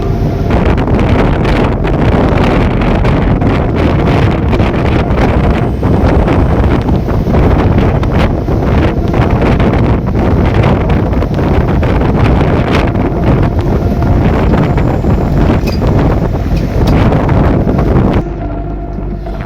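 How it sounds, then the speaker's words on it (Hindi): Strong wind roars loud and steady across a ship's deck on the open sea in rough weather with high waves, buffeting the microphone throughout before easing slightly near the end. "तो भाई हवाएं बहुत चल रही हैं और लहरें बहुत ऊँची ऊँची हैं भाई।"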